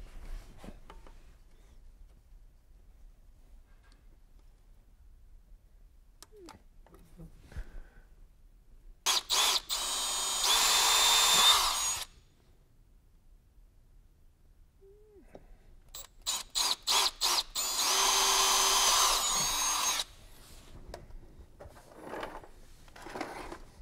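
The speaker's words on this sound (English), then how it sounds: "after you drill the holes" Two bursts of loud, high-pitched drilling whine as holes are drilled into a fiberglass boat hull, each lasting a few seconds, separated by quiet stretches with small clicks and handling noises.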